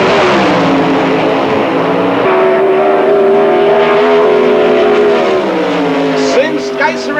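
Drag racing cars roar down the strip, engines loud and sustained with rising, shifting pitch over several seconds.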